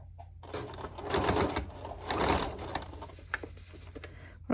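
Sewing machine stitching a false hem onto a pair of pants, with two bursts of steady mechanical whirring, each about a second long, close up, followed by quieter handling clicks.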